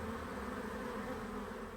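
A swarm of about 50,000 agitated bees in the back of a pickup truck, giving a dense, steady, loud buzzing drone that fills the whole stretch without pause, with no voices.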